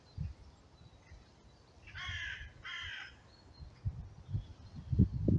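Two raspy caws from a crow in Little France Park, Edinburgh, a short pair spaced about a second apart at moderate distance, followed by low rustling and handling noise outdoors.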